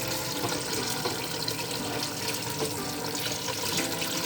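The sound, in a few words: pouring water over veal in a tajine stew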